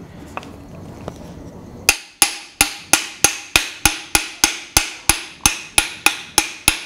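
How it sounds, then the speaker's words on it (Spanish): A hammer taps repeatedly on a metal part during a mechanical repair, a steady run of about fifteen sharp, ringing strikes at an even pace after a few softer knocks, close and loud. "Estoy golpeando en varias partes."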